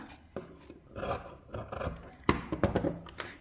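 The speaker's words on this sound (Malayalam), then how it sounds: "ഈ ഓരോ ഇഞ്ച് മാർക്ക് ചെയ്ത ഭാഗത്ത് കൂടെ കട്ട് ചെയ്ത് കൊടുക്കുക" Scissors cutting fabric along marked one-inch lines to shape a border for a neck design, giving a series of rough, rasping snips and rubbing strokes, close and moderately loud with no talking.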